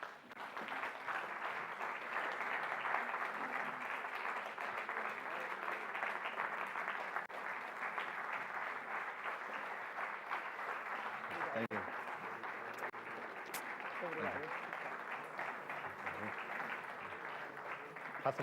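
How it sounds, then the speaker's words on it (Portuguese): Sustained applause from an audience greeting the guests arriving on stage at a Portuguese poetry event about Ruy Belo, steady and full for most of the span, with a few voices briefly heard near the end. "Uma salva de palmas para eles."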